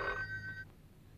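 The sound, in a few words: telephone ringing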